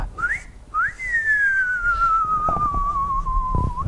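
A person whistles a long rising-then-falling compliment whistle: two short upward swoops followed by a sustained, slowly descending tone, loud and clear against faint background noise.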